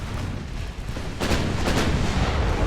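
Big naval guns from a 1905 Adriatic pre-dreadnought battle in Ultimate Admiral: Dreadnoughts thunder in a couple of heavy, overlapping booms that follow a steady rumble of continuous battle noise.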